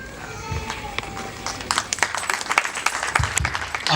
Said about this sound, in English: A round of applause, can we clap?